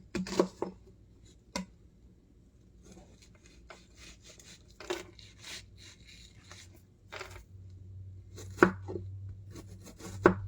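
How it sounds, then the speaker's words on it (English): Scattered knife chops cutting up onion for salmon croquettes on a board, irregular and close, some in quick clusters. A low hum builds toward the end, and there is no talk. "Now I'm going to cut up some onion to go in my salmon."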